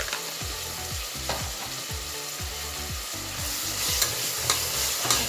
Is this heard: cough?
no